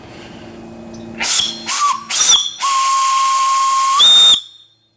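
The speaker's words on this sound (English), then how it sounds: "Got a nice little whistle." A quarter-scale steam donkey engine's whistle gives several short toots and then one long sustained blast, loud and close, with a hissing rush of steam around each note.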